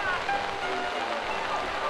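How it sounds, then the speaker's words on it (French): Dense, steady patter of heavy rain falling at the Trevi Fountain in Rome, with a faint voice underneath. "On entend d'ailleurs souvent le crépitement de la pluie"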